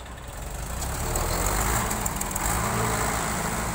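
A Mahindra tractor engine running, heavy low diesel rumble growing slightly louder and then holding steady, close and continuous.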